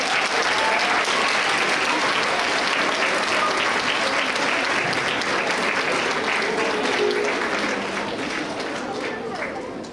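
A middle school audience at an awards assembly gives a long, loud round of applause, dense and continuous clapping that fades slightly at the end.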